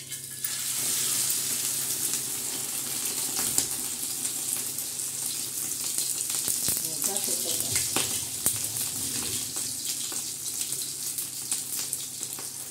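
Bread dipped in beaten egg frying on a hot iron griddle (tava), giving a steady sizzle with crackling spikes that runs close and continuous throughout.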